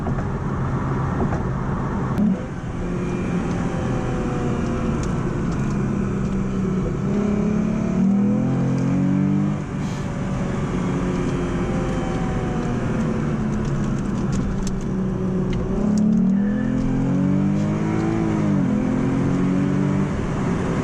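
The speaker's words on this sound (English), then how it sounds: "I'm shifting early just to get those nice smooth acceleration and shifts and everything." A 2007 Lexus IS 350 accelerates along a backroad, engine tone climbing steadily then dipping at several early, smooth gear shifts, with constant road and wind noise inside the cabin.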